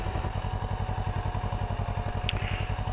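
A motorcycle being reversed during an A2 licence riding test putters at low engine speed with a steady, even pulsing beat, close and continuous.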